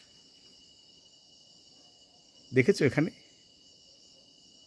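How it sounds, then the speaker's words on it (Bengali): Crickets chirp steadily in the evening hills on the Sikkim–Kalimpong border, a faint continuous high trill under a brief burst of talk from a nearby voice. "আশা করি তোমরা ঝিঝি পোকার ডাক শুনতে পাচ্ছ"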